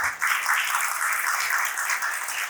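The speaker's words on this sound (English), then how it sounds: "A big round of applause." Steady applause from an audience at a music show in Navi Mumbai fills the whole stretch, a dense wash of many hands clapping without pause.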